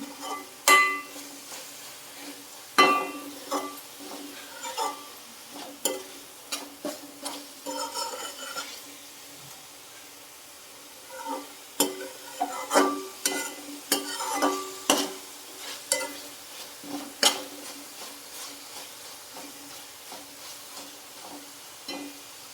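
Onions stir-frying in oil in a pan: repeated scraping and clinking of a spatula against the pan over a light, steady sizzle, in irregular bursts with short pauses.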